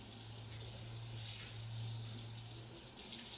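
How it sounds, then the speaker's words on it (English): Tap water running steadily into a sink during handwashing before cooking, a continuous close hiss with an underlying hum. "important part before you start doing anything is to wash your hands"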